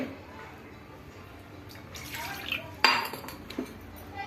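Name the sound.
washing a masala bowl with water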